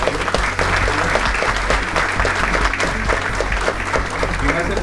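An audience at a cybersecurity conference for banking and government in Lima applauds the panelists, a sustained hall-wide clapping that runs steadily for several seconds with faint speech beneath.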